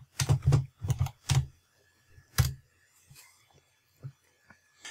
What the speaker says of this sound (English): on the search bar here we're going to type in SyncToy